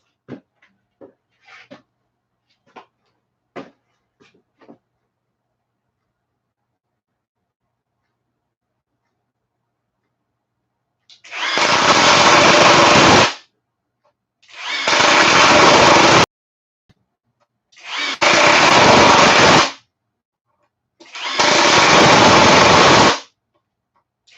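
Kimo brushless and Ryobi impact drivers sinking screws: a few faint clicks first, then four loud, close bursts of rapid hammering rattle, each lasting about two seconds with short pauses between.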